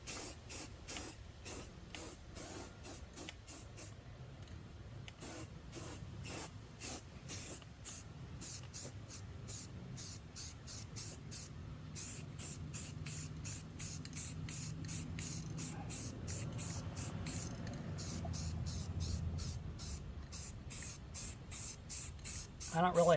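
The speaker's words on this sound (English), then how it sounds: "put a coat of primer on here." An aerosol can sprays primer in short repeated bursts onto a thin welded car body panel during rust repair, a steady close hiss broken by regular pauses, with talk partly underneath.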